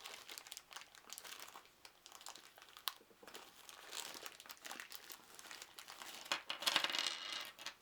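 Plastic tokens from a Milton Bradley Hannah Montana: True You board game clink and rattle against each other amid crinkling bag plastic, close and fairly quiet, with a louder rustle near the end.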